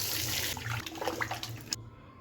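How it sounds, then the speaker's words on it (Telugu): Fish pieces for a tamarind fish curry are rinsed under a running kitchen tap, a steady close rush of water that splashes for almost two seconds and then cuts off abruptly. "చేప ముక్కలు మంచిగా కడుక్కోవాలి."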